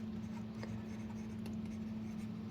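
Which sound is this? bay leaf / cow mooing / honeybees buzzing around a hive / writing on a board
writing on a board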